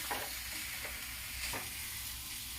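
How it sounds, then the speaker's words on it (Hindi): Black chickpeas mixed with onions are stir-fried in a pan, with a steady close sizzle and a few soft scraping strokes of a stirring utensil, and no talking. "ये बिल्कुल प्याज में मिल चुका चना। इसे 1-2 मिनट भूनने के बाद मैं उसे मिला दूंगी।"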